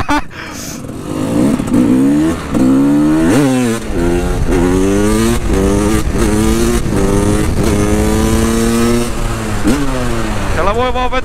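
A KTM EXC 300 two-stroke dirt bike engine revs hard and loud, pitch climbing and falling in repeated surges through the gears, close by and continuous.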